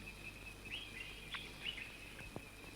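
Faint, high chirps from a small bird, a few short calls scattered over steady outdoor background noise.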